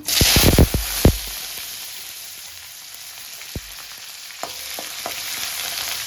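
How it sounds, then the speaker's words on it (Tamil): Shallots fry in hot oil with popped mustard seeds for a Tamil beetroot poriyal, with a few sharp spoon clatters and scrapes over a faint steady sizzle, close and without talk. "வெங்காயத்தை நல்லா எண்ணெயில் வதக்கி விடுங்க."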